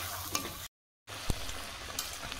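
Prawn curry masala with meat masala sizzles and is stirred in a pan while cooking pointed gourd and prawns, a steady close frying hiss with a spoon scrape and a brief dropout to silence.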